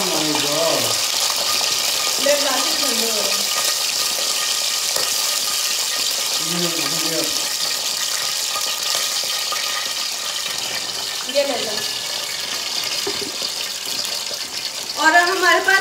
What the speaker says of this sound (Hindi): उसने गीले पैन में ऑयल डाल दिया इसलिए थोड़ी आवाज़ें आ रही